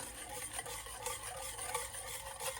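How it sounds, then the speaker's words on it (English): A spoon scrapes and swishes steadily through a pot of New Orleans-style gumbo with sausage and chicken, a continuous close, textured stirring with no voices. "Getting it all stirred around."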